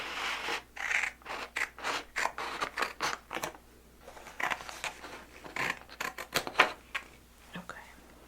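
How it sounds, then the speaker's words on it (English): Scissors snipping hair in a soft-spoken hair-styling session, a long run of short, crisp close-up snips in quick rhythmic bursts with faint brushing scrapes between them, no talking. "Okay, so I'm gonna go ahead and cut at the bottom."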